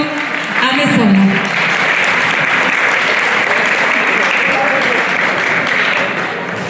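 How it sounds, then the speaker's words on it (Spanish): A live audience claps loudly for a teacher being introduced at a talk on society's decline. The applause runs steadily for about seven seconds, and a brief voice and cheer rise at the start. "Fuerte el aplauso para el profesor José Antonio Amezola."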